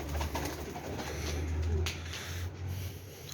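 Low, soft cooing of Royal Teddy pigeons repeats steadily throughout, close by, with faint rustling and background noise.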